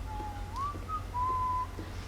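Tyrion whistling a slow, gliding tune in Game of Thrones, a single clear whistle with a few sustained notes and a rising bend over a low steady background hum.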